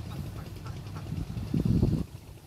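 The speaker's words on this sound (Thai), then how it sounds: "คลิปนี้ก็พามาดูเป็ด" Domestic ducks foraging in a rural rice paddy, a steady jumble of quacking that swells louder near the end before easing off, with no voices.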